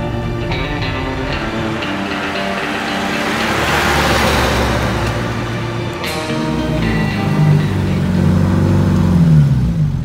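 A 1962 Škoda Octavia Super pulls away, its engine note rising steadily as it accelerates, then easing and swelling again, close and fairly loud with no talk.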